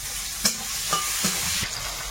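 Chopped onion frying in hot oil in a pan, the batch going in after eggs were fried, for a Sundarbans-style meal: a steady broadband sizzle with a few brief stirring clatters, close and moderately loud, no talking.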